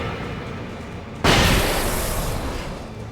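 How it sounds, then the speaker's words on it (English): A flashbang grenade goes off in the video game Alan Wake: a sudden loud blast after a quiet lead-in, then a sustained roaring, crackling burst that slowly tapers off. "Alright, well, we're gonna try a flashbang, I guess."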